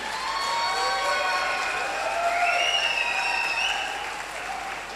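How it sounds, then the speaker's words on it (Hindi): Audience at a motivational gathering applauds loudly for themselves, a sustained wash of clapping mixed with high, sliding whoops and cheers. "एक बार अपने लिए जोरदार ताली, जबरदस्त ताली बजाइए"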